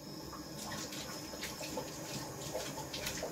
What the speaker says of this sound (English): I'm going to give Ike water now because he's so, so needy.